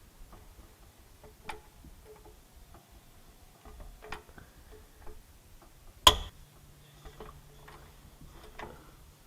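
A wrench works on stuck drive shaft to differential bolts under a Vic, making quiet scattered ratcheting clicks and ticks. Partway through, one sharp metallic crack is followed by a low hum and more clicks.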